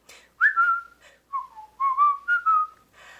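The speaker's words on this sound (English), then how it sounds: "Just purse your lips and whistle, that's the thing." A person whistles a melody during a Sunday church service, clear close whistled phrases in several separate bursts with short pauses between, no talking.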